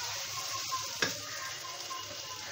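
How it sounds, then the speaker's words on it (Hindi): Tomato puree frying in a pan for restaurant-style dal makhani, a soft steady sizzle with a single stirring clink, quiet and close, no talking. "ये भी इसमें डाल के भून लेंगे, अच्छी तरह भून लेंगे,"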